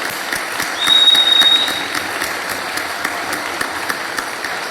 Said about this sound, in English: if we could have a round of applause for all the volunteers who helped put this on